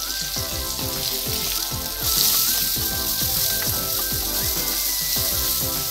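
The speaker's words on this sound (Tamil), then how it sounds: "வெங்காயம் நல்லா வதங்கட்டும்." Onions and green chillies sauté in a pan for radish poriyal, giving a soft, steady sizzle with rhythmic spoon strokes and a faint tonal hum behind.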